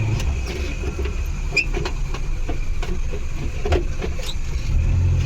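Maruti Omni van engine racing while first gear fails to engage properly, a low, rough engine drone heard close and steady, with small clicks and mechanical clatter from the gearbox.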